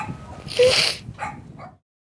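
A stray dog taken in by a couple in a war-damaged village near Mykolaiv, Ukraine, gives a short whining bark and a few high whimpers up close before falling silent.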